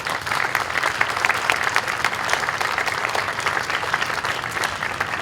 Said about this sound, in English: Round of applause for our guests today.